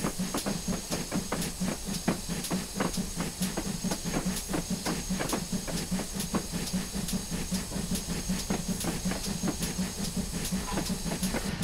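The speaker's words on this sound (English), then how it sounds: "Get a big few chuffs out of the way as we move on." GWR Hall 4900 Class steam locomotive on the Falmouth Branch Line in Train Simulator, chuffing in a steady, even rhythm over a constant hiss of steam while rolling along.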